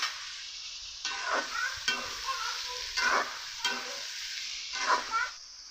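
Green chilies and chopped onion fry in hot oil, a constant sizzling hiss broken by several scraping stir strokes of a spatula in the pan, close and moderately loud, with no talking.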